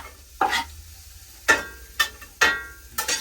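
Onion cooking in a pan on a wood stove: four or five sharp, brief scrapes and taps of a utensil stirring the pan, spaced about a second apart over a quiet background, close by with no speech.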